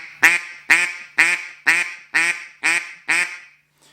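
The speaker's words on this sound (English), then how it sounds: "it's just your basic quack" Seven evenly spaced duck-call quacks, loud and close, each a short nasal blast followed by a brief pause.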